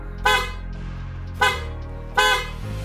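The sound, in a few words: installed vehicle horn honking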